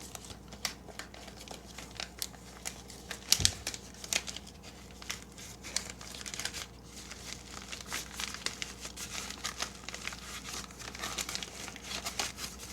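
A paper envelope crinkles and rustles close by as a DNA test kit is slipped inside, with one sharper thump partway through and no voices.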